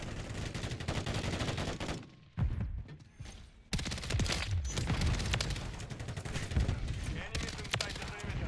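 An F-Jacks submachine gun in Black Ops 6 multiplayer fires in long, dense automatic bursts, broken by a couple of brief pauses, loud and close throughout.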